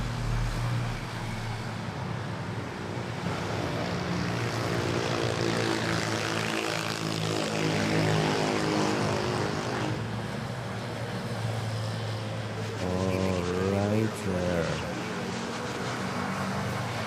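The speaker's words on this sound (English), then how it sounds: "Nice smooth landing there." A propeller airliner lands at Manila Airport, a sustained loud engine roar with droning tones that persists throughout and swells briefly near the end as it passes close.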